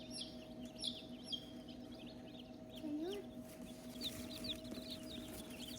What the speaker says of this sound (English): So here are all the baby chicks we got today.